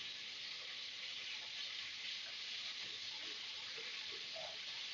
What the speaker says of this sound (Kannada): ನೀರಾಗ ಎಣ್ಣೆ ಹಾಕ್ಬಿಟ್ಟೇನೆ, ಚಟಪಟ ಅಂತ ಸಿಡ್ಯಾಕ